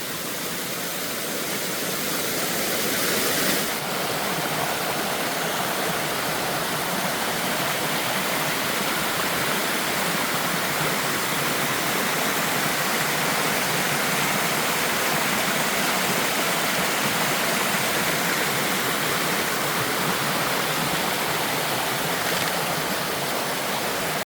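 A waterfall on Mount Moosilauke on the Appalachian Trail roars close and loud, a dense unbroken rushing of water that holds steady throughout, no voices.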